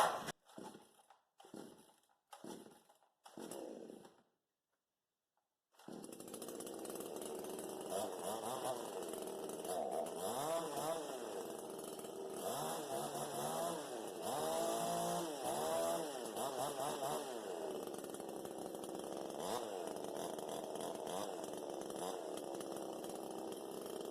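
A cheap eBay chainsaw is pulled several times in short bursts, then after a pause the engine fires and runs steadily, revving up and down close by.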